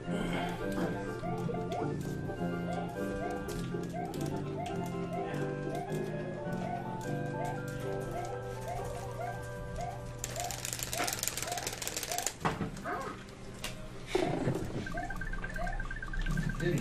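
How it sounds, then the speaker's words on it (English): Super Mario World gameplay from a live speedrun race, its busy chiptune music running throughout with short, repeated jump effects popping up, a burst of noisy effects near the end, and voices talking underneath. "just how many times you do hear that jump sound"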